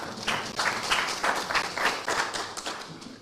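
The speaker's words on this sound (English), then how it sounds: "You can clap for him." Audience at a handover ceremony in Bondo, Siaya County clapping for a ministry official, a moderate run of rhythmic hand claps at a steady pace, fairly close and unaccompanied by speech.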